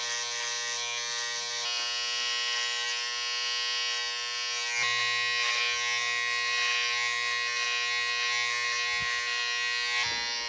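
Electric hair clippers with a guard buzz steadily while shaving up the back of a head, a close, continuous motorized hum whose pitch shifts slightly as the blade presses into the hair, with no speech.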